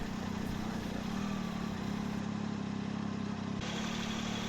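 A 2018 Triumph Tiger 800XRt motorcycle rolls at slow city speeds through the centre of York. A steady, low engine hum sits beneath constant rushing wind noise, with no talking.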